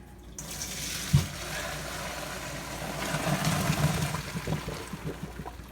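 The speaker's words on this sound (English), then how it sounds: "I'm going to pour it into the colander here." Boiled macaroni poured into a colander in a vintage kitchen: a steady rush and splash of water running for several seconds, starting with a clunk of the pot, under a low background hum.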